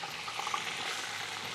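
Onions browning in a pan produce a continuous, fairly close sizzle and bubbling hiss with faint crackles, steady throughout.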